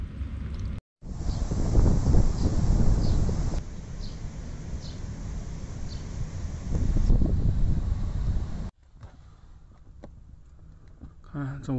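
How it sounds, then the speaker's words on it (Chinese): Strong winter wind buffets a car parked by a roadside toilet in northeast China, heard as loud gusty roaring that swells and eases, cut by short breaks, with someone talking at times. "看这外面好大的风啊"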